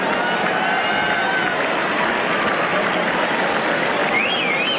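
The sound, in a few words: tennis crowd reacting at US Open semifinal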